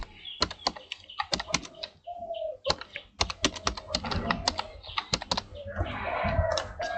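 Fingers typing on a computer keyboard, irregular bursts of crisp key clicks with short pauses, close and fairly quiet, no voices.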